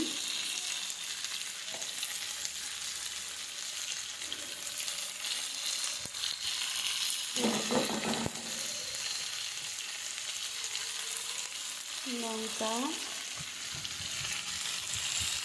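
Spices and salt fry in a hot pan with potatoes for pea paratha, giving a steady, even sizzle throughout, with occasional stirring scrapes and a few faint clinks; no one speaks.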